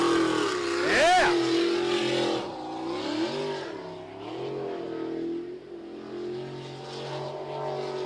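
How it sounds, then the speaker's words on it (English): A sprint racing boat's Ford engine revs hard during a pro racing qualifying run at Lewiston, Idaho, its pitch sweeping sharply up and down before settling into a steady, loud drone beneath a speaking voice. "There's that Ford motor that you love."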